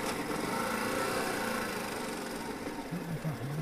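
Motorcycle engine downshifting with throttle blips, a steady close engine drone with brief rising pitch sweeps near the end as the revs are raised between gears.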